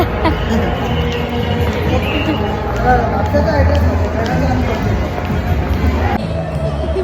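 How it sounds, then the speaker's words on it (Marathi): Dense crowd of airport staff gathered for a garba dandiya celebration at an airport, a steady continuous babble of many voices close around, with music and movement blended into the hubbub throughout. "स्टाफची तर बरीच गर्दी असं आहे"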